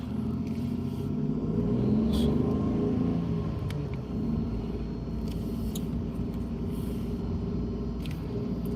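A car rolls past close by as a steady, loud engine rumble that swells slightly around the two-second mark and then eases off, holding a continuous low drone to the end with no talking.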